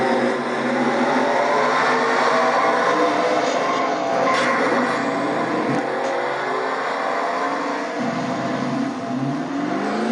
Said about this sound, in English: having trouble getting her truck started